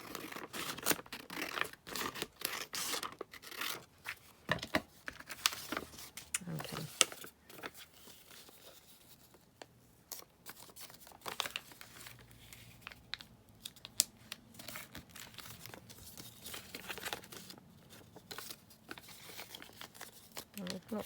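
Scissors cut through a card blank in short, irregular snips mixed with crinkling and rustling of the card, close and fairly quiet, with a pause in the middle.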